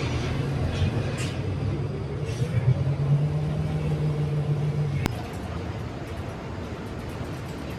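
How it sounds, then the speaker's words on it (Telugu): City bus pulling in and riding on a rainy day, a low engine rumble and rising drone heard from on board, steady and fairly close, ending with a sharp click as the noise drops. "సో ఇప్పుడే బస్సు అయితే వచ్చేస్తుంది."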